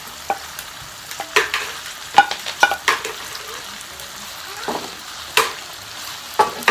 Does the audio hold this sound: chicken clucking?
no